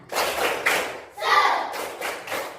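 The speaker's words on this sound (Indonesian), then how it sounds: "Tepuk semangat." A class of standing students claps out the 'tepuk semangat' routine during an ice-breaker, with a few grouped bursts of hand claps and thumps rising and falling over a couple of seconds.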